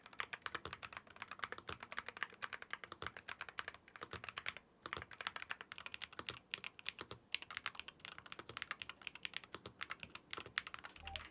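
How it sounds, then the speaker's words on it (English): Rapid, steady typing on a keyboard fitted with TTC King of Magnetic switches, the keystrokes clacking crisply and close in a dense continuous stream, with one brief pause midway. "on this keyboard, I actually prefer the sound of the TTC King of Magnetics."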